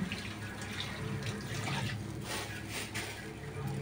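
Water runs steadily from a kitchen tap during dishwashing, a continuous close splashing hiss with faint clinks, no talk over it.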